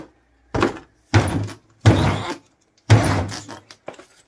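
A door in an abandoned, fire-damaged hospital building is pushed and moved, giving four loud, close, separate bursts of thudding and scraping with short silences between them.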